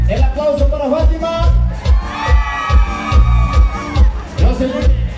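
Loud audience applause mixed with cheers and shrill whoops for a contestant at a tropical variety show in San Juan Bautista Coixtlahuaca, Oaxaca, a dense continuous roar with rhythmic clapping beneath.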